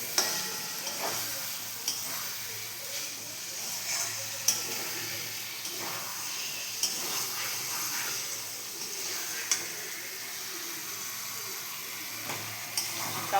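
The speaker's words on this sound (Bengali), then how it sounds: "এখন সুন্দর করে একটু কষিয়ে নেব, বেশি কষাবো না" Spices sautéing in a pan before chickpeas and lentils go in, a soft sizzling hiss broken by regular sharp clicks and scrapes of a spoon against the pan, heard alone and fairly quiet.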